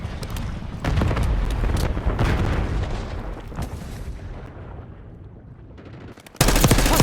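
Gunfire and a frag grenade blast in the Call of Duty Black Ops 6 video game: dense rattling shots and booms, fading briefly before a sudden loud burst near the end.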